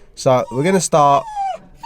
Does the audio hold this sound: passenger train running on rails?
no